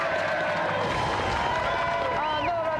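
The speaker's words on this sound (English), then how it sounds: "round of applause for our golden joystick winner" Studio audience applauding and cheering for the Golden Joystick winner on the Gamesmaster games show, a steady dense wash of clapping with voices and whoops rising through it for about three seconds.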